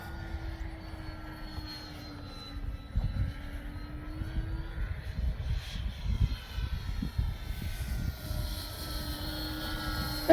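A Dynam ME BF-109 radio-controlled warbird flies at full speed with the wind, its electric motor and propeller making a steady whining drone with some wind rumble, moderately distant and continuous, without talk.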